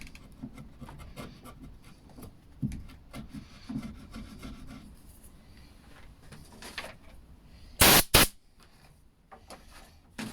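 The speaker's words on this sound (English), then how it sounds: "I think I just need to chisel that off a little bit." Chiselling at a wooden headboard mount for a hospital bed makeover: close, irregular scraping and rubbing strokes on wood, with a louder burst of sharp rasping near the end.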